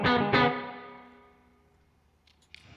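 An electric guitar through a NUX Verb Core Deluxe spring reverb pedal, with decay at minimum and level at noon: two struck chords ring out, then fade into a long, smooth tail, followed by a few faint picked notes.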